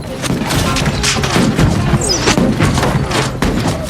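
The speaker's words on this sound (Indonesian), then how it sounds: "Dilanjutkan tembakan beruntun dari Chris yang menghancurkan jendela dan dinding tempat pasukan itu bersembunyi" Rapid bursts of gunfire crack over crashing and smashing windows and walls, a loud, dense barrage of impacts continuing throughout.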